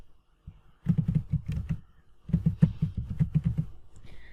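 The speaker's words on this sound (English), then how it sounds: "Just click on it and type screen saver." Someone types on a computer keyboard in two quick bursts of crisp, close keystrokes, separated by a short pause, with no voices.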